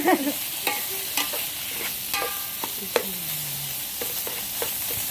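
Fresh mud crab stir-fries with glass noodles in a pan, making a steady close sizzle broken by repeated scraping and clattering strokes from a utensil, with faint tonal squeaks between them.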